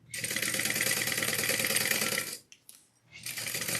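Sewing machine basting the bottom of a duffle bag panel, a loud close run of rapid needle chatter for about two seconds, a brief pause, then stitching resuming.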